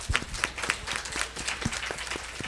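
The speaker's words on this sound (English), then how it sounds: "So please give them a warm round of applause." An audience claps for speakers at a fireside chat event, a modest round of scattered hand claps, fairly quiet and somewhat distant.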